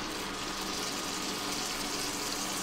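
Melted butter mixed with bacon fat poured into a pan to start a roux, a steady close hissing, gushing pour lasting the whole moment.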